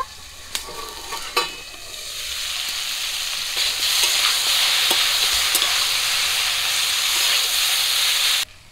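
Thick-cut bitter gourd pieces fry in hot oil in a pan, a steady loud sizzle and hiss that swells after a few early clatters and runs on evenly before stopping abruptly.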